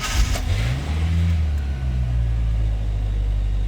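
A Splash Sport Danger Ranger engine cranks for its first start with a correct ECU, giving a close, loud low rumble that rises in pitch and then settles into a steady hum.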